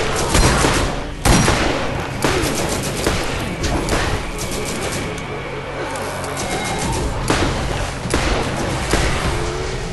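A deployed turret fires in the video game Borderlands, with dense, loud bursts of rapid gunfire and booming impacts running almost continuously, sharp shots standing out at intervals.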